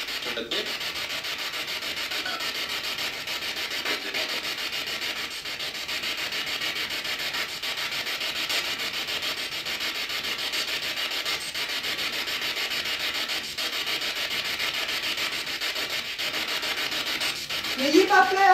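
Spirit Box radio sweeping during a paranormal investigation in a château, a continuous harsh hiss of scanning static with faint flickers and crackles, steady and close for the whole stretch, with no voices.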